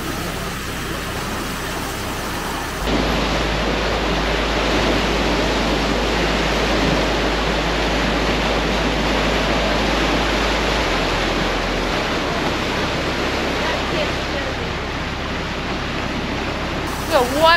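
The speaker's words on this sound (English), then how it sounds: "We've got white water behind us." Loud, continuous rushing of churning white water behind a boat surfing in at 21 knots, a broad steady roar with an engine drone underneath.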